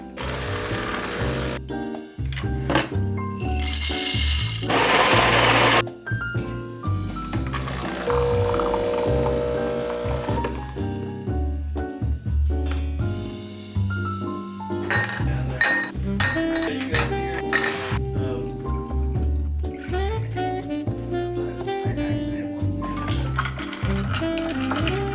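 Cups, spoons and utensils clinking while coffee is made: irregular light clinks, taps and knocks over a busy kitchen background, with a brief louder rushing or pouring sound near the start.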